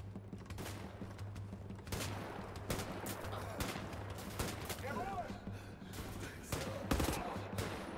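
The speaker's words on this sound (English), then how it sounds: "Why are you shooting a machine gun from there?" Rapid bursts of machine gun fire and scattered shots crackle in the video game Wolfenstein: The New Order, fairly faint and steady over low background hum.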